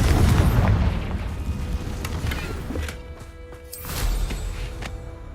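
Confringo fire spell blasts in Hogwarts Legacy, a heavy booming burst at the start that rolls off into crackling rumble, followed by further softer impacts and magical whooshes.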